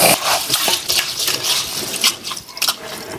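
Basmati rice is swished and rubbed by hand in a bowl of water, giving close, loud sloshing and splashing with gurgling drips, continuous with no talking.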